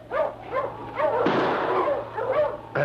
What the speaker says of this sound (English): Watch out for that lead dog there, Manny.